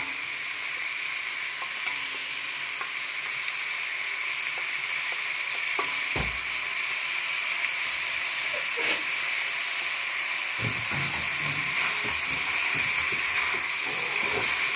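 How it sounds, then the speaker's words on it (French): Pieces of veal browning in a hot pan, with a loud, steady sizzle and hiss of frying throughout, plus occasional clanks of stirring, close to the pan and without speech. "Nos morceaux de veau sont en train de bien dorer là."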